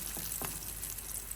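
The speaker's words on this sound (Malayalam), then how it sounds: "ഇതാ ചെറിയ ഉള്ളി വെളിച്ചെണ്ണ ഒഴിച്ച് ഒന്ന് വറുത്തെടുക്കുന്നുണ്ട്" Shallots frying in coconut oil for a tempering, a soft steady sizzle with a couple of brief stirring scrapes, close and fairly quiet, no voices.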